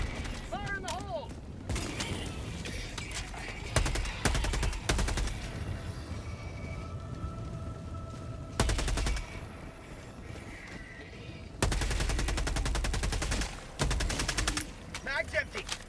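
Gunfire in the video game Helldivers 2, with repeated bursts of automatic weapon fire and loud single shots cutting in and out across a busy battle soundscape, mechanical clanks between volleys, and voices talking intermittently.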